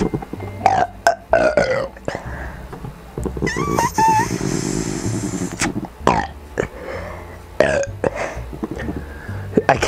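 Several short, squeaky, high-pitched burps from a person who has inhaled helium, mixed with bursts of nearby talking and clattery handling noise.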